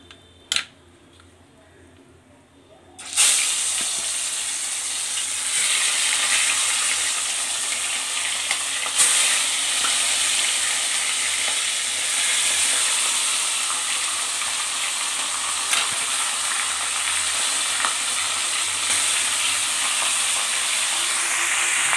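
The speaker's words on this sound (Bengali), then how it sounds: "এবার আমি ওই তেলে বাদবাকি মাছগুলো ভেজে নিব" Katla fish pieces frying in oil, starting after a near-silent opening and then giving a loud, steady sizzle for the rest of the clip, with occasional faint clicks and no speech.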